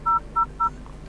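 Three short, evenly spaced keypad beeps ring out as a secret code is entered on a Huawei Pura 80 Ultra phone, clean and moderately loud against a quiet background.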